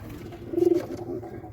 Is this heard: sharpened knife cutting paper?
no